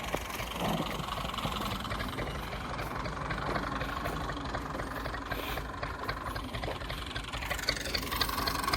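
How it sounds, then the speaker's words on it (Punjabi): A tractor engine runs steadily while the tractor makes ridges in a Punjab field being sown with peas, a continuous, even mid-level drone with no breaks and no speech. "ਇਹ ਚੌਧਰੀ ਸਾਹਿਬ ਨੇ ਜਿਹੜੇ ਟਰੈਕਟਰ ਦੇ ਕਾਰੀਗਰ ਨੇ ਤੇ ਇਹ ਵੱਟਾਂ ਪਾਉਂਦੇ ਪਏ ਜੀ।"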